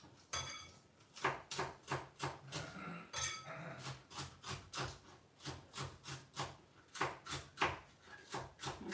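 A knife chops onions and spring onions on a cutting board in a home kitchen while preparing egg fried rice, with steady, rapid thuds close by and no talking.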